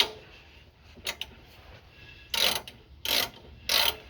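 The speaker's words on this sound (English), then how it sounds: "Bolt isn't in all the way, so we're gonna try to drive it in." A ratchet drives a bolt home during a rear shock swap on a Jeep, with a couple of faint ticks followed by three short, loud bursts of rapid clicking close by.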